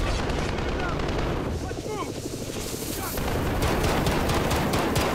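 A grenade explodes in the Modern Warfare video game, a loud dense blast of gunfire and rumbling detonation noise filling the scene with continuous heavy battle sound.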